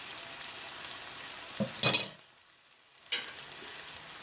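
Yam braise stir-frying in a pan with soy sauce and syrup gives a soft sizzle with a few clinking stirs and scrapes, including a sharp burst near the middle, then a brief quiet before the frying resumes; no one speaks.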